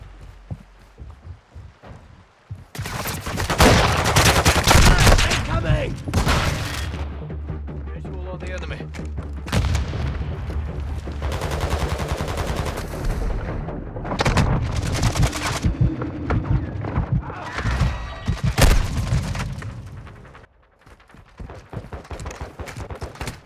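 Call of Duty Modern Warfare II multiplayer match: bursts of automatic rifle fire and sharp single shots crackle loudly in rapid clusters, broken by short pauses, with game voice callouts in between.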